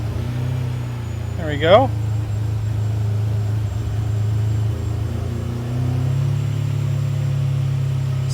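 A Ferrari 456 engine fires up after a long crank and settles into a steady, fairly loud idle, with a brief rev at the catch and a voice speaking over it.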